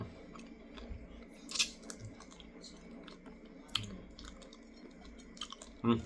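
Crisp, crunchy chewing of fried fish coated in mala powder, close and fairly quiet, with irregular crunches and a couple of sharper bites spaced over several seconds.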